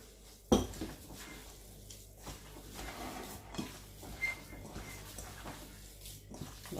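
Ground meat being mixed in a bowl, with a sharp clatter near the start followed by soft, intermittent scraping and clinks of a utensil against the bowl, fairly quiet and without talk.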